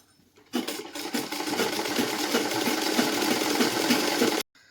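Sewing machine stitching the seam of a loose-fitting ladies' pant, a steady close whirring run of about four seconds that starts and stops abruptly, with no talk over it.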